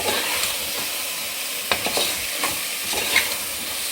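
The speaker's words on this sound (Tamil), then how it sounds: "அந்த சிக்கனை ஒன்று எடுத்து உள்ளே சேர்த்துக்கோங்க. சேர்த்துட்டு நல்லா மிக்ஸ் பண்ணி விட்டுக்கோங்க." Pieces of fried chicken are stirred into biryani in a pan, giving a steady frying sizzle broken by scraping spoon strokes and soft clacks.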